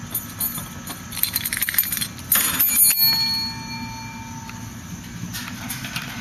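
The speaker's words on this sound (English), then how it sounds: "there's the bell. Start this match." A ring bell clangs to start a wrestling match at an independent wrestling event, its bright metallic ringing decaying over a few seconds amid arena noise, with no talk.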